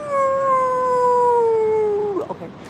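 A person howls at the full moon in imitation of a wolf: one long, loud, steady wail held close up for about two seconds, gently sliding downward before breaking into a short wavering tail.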